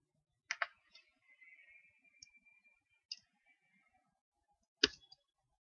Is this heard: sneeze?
no